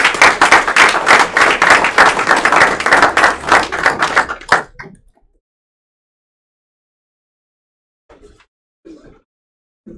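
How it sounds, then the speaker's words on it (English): An audience claps and applauds at a career and technical education signing day ceremony, a dense burst of clapping lasting a few seconds before cutting off into near silence with a few faint scattered sounds. "Let's give these ladies a round of applause."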